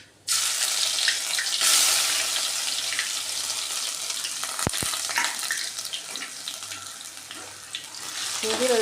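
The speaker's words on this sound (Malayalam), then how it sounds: "ഇഞ്ചി വെളുത്തുള്ളി ചതച്ചത് ഇട്ട് കൊടുത്തിട്ടുണ്ട്. അതിപ്പോൾ ഒന്ന് മൂത്തോട്ടെ" Crushed ginger and garlic fry in hot coconut oil after popped mustard seeds, for a beef dish with coconut bits; a loud, steady close-up sizzle runs throughout, broken by a couple of sharp clicks.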